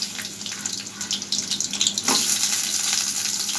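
Sliced onion hits hot oil with bay leaf and chilli for a soy sauce chicken, bursting into a loud, steady hiss and crackle that holds without talk.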